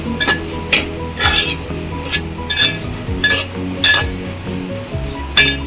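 Salt being mixed into dried shrimp (jawla) in a pan: repeated scraping and clinking strokes of a spoon against the metal, close and fairly loud, with a light sizzle underneath and no talking.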